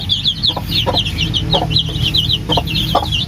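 Crossbred Basilan, Shamo and native hens cluck close by in repeated soft bursts, with chirping chicks peeping continuously in the background.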